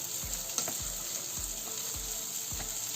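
Tomatoes sizzle in a hot pan while a utensil stirs them, with repeated scraping strokes roughly every half second over the steady frying hiss.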